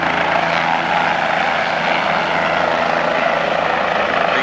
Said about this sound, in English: And there's this helicopter.